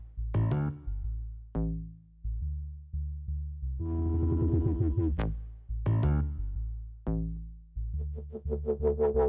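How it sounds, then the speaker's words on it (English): Layered Serum wobble basses from a funk-flavoured drum and bass track sounding together, clean synth bass notes in a bouncy repeating pattern with plucky attacks and short modulated wobbles, loud and dry with no voices. "if you play all the basses together, it sounds like this"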